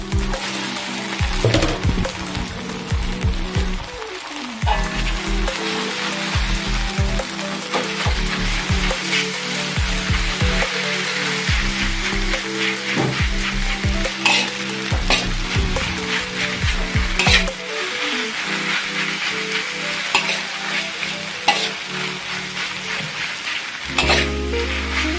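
Flat kueh tiaw rice noodles stir-fried in a hot pan give a loud, continuous sizzle, with frequent scraping and tossing noises from stirring throughout and no voices.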